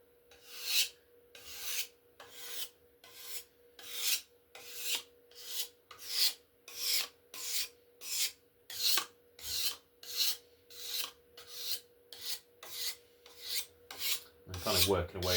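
Hand rasping or shaving wood off the limb of a laminate longbow, producing small shavings: about twenty evenly spaced strokes in a steady back-and-forth rhythm, close and clear, with no talking.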